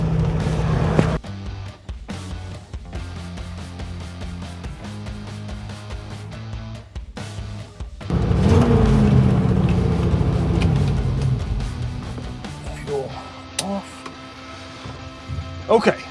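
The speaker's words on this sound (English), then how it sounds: "So she runs and drives, locked in 4 low." A 1969 Ford Bronco running and driving locked in four-low, its engine rumbling steadily with clunks and a louder revving surge midway before settling, recorded close and alone.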